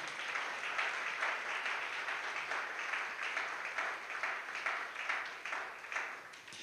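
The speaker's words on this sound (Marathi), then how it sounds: "टाळी वाजून त्याला धन्यवाद देऊया" A church congregation claps steadily together in a dense, continuous wash of applause that holds at an even level throughout, with no voices rising above it.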